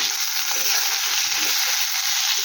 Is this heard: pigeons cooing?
no